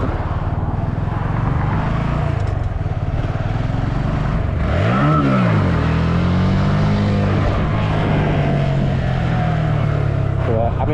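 A car accelerates in first gear, its engine droning steadily and rising in pitch with a sweep midway, close and loud throughout, with someone talking over it.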